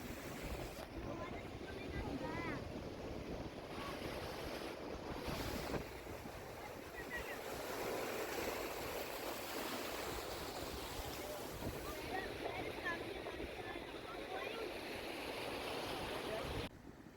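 Sea waves wash steadily onto Corbyn's Cove beach near Port Blair in the Andaman Islands, a continuous roar of surf mixed with wind buffeting the microphone, with no talk.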